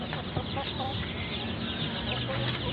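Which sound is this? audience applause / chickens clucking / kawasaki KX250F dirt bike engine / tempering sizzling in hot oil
chickens clucking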